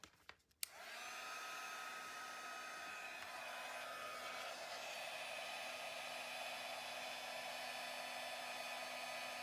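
A heat tool blows steadily for several seconds to melt embossing powder on stamped turtle images at a craft desk, a loud continuous whirring hiss after a brief click at the start.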